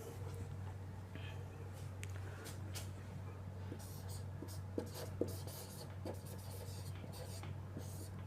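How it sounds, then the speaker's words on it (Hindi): Pen writing on paper during a Hindi biology lesson on lipase and fat digestion, steady scratchy strokes in short bursts over a low room hum, close by, with faint whispered speech. "तो यहाँ लिख दे क्या"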